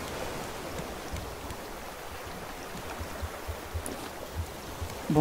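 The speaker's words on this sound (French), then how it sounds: "Pleut." Steady rain falls in the survival video game Raft, a soft continuous hiss mixed with gentle water sounds, faint and even throughout with a small knock near the end.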